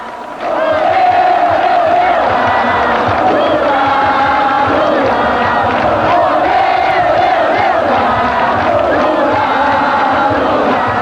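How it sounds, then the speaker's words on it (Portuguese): A huge crowd of over 300,000 at a 1989 Brazilian presidential election rally on Avenida Presidente Vargas in Rio de Janeiro roars, chanting and cheering loudly and continuously, a dense wall of voices throughout. "No comício, o som da multidão era maior do que o do Maracanã lotado"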